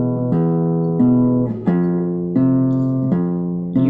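Solo guitar sounding ragtime-style chords, about six sustained strums at a steady, unhurried pace, clear and close with ringing harmonics and no talking.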